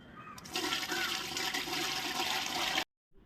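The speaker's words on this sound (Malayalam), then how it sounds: "ശുദ്ധമായ വെളിച്ചെണ്ണയാണ് നമുക്ക് ഒഴിച്ചു കൊടുക്കും" Pure coconut oil pours steadily in a continuous rushing stream while a batch of herbal hair oil is prepared, then cuts off abruptly into silence.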